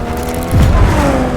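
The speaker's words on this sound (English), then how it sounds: "I added this sound effect, which is a sound effect of a passing Porsche 977" A Porsche 977 sports car roars past as a sound effect, a loud engine whoosh that swells sharply midway and holds at full level to the end, layered over a faint musical bed.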